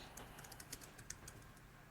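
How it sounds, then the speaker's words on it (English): Someone types quickly on a computer keyboard, with faint, rapid, irregular key clicks over a low steady background hiss. "I can hear you typing, so you're quickly googling the fridge picture."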